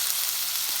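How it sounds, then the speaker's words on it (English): Vegetables for a lentil stew sauté in a pot with a steady, loud, close sizzle that continues evenly throughout. "what I want to do here is move these vegetables around in this stew. I'm sauteing them for a little bit."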